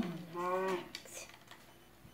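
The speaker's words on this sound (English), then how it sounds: "So here's the cows with the levitation effect." Minecraft cows give a short, fairly quiet moo near the start, followed by faint game noises, with no talking.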